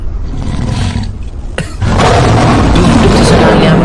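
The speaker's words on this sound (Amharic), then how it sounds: "አንበሳ ድምፅ እዛ ቤት ምን እየተካሄደ ነው?" Loud lion roar during a game, a sudden broad rumbling burst that rises midway and holds steady and powerful to the end, heavy and close.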